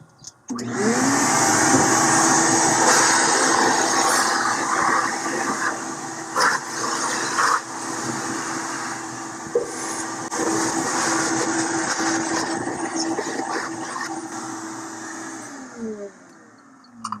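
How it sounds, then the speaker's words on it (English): A shop vac sucks ash and dust out of the inside of a Pit Boss pellet grill, giving a loud, steady, close roar that runs nearly the whole time, with rattles and knocks as the nozzle moves and a brief dip near the end. "you want to give another thorough vacuuming to make sure all the dust is out"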